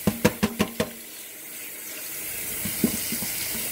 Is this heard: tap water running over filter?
yes